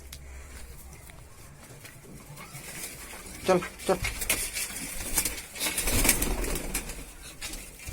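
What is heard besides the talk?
pigeons cooing and flapping wings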